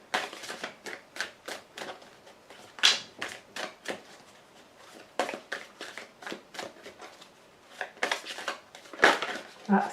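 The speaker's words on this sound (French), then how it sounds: "5 cartes vont être tirées." Playing cards are shuffled and drawn for a card reading, giving a steady run of close, crisp snaps and flicks in irregular rhythm, with no talking.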